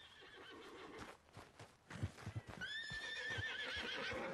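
Horse in the video game Red Dead Redemption 2: a few hoof clip-clops and shuffles first, then a loud, close neigh rising and wavering for the final two seconds.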